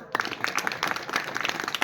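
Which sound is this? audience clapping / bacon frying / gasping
audience clapping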